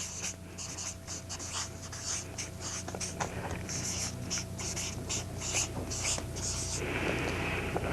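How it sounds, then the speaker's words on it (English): A pen scratches across paper in short bursts of strokes, close and moderately quiet, with soft paper rustle and a faint background hum. "So I'm just going to write that down."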